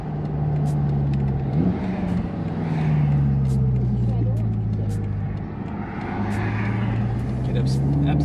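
A BMW F10 M5 with a JB4 tune and dual-clutch transmission accelerates from inside the car, its engine note droning and rising steadily with a shift partway through, loud and continuous under a low murmur of talk.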